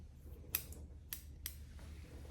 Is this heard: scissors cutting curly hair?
yes